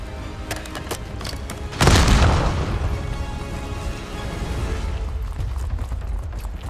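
A frag grenade explodes in the Call of Duty Black Ops 6 campaign, a sudden loud boom that swells and then decays into a rumbling tail under ongoing game sounds.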